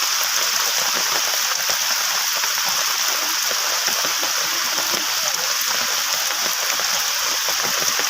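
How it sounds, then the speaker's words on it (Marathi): Dense, constant hiss of heavy rain pouring down on rice paddy fields in Kalamusre village, Uran, an unbroken wash of water noise with no pauses. "भर पावसात"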